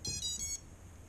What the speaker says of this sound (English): And we hear the beep from the ESCs, so that's what I like to hear.